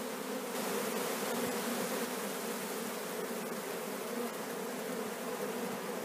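A honeybee swarm gathered in a cedar tree makes a dense, steady buzzing drone that fills the air evenly and continuously with no pauses and no voices.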